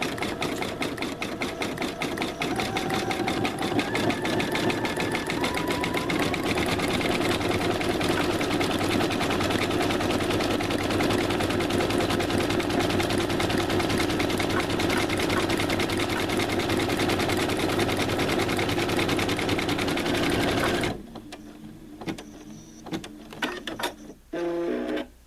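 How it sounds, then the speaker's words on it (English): An embroidery machine stitches a name onto a tote bag with a fast, steady mechanical whir and needle chatter, loud and close for about twenty seconds before stopping, followed by a few clicks and handling sounds. "we're coming to the end of our stitching of the name"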